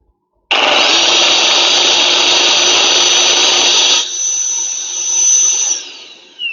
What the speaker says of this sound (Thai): มันมีเสียงดูดฝุ่น